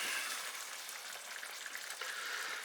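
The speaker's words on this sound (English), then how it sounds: "let that simmer" Cottage pie filling simmers gently in a covered pan on a cooker turned down low, giving a steady, soft bubbling and faint sizzle throughout, close by and with no voices.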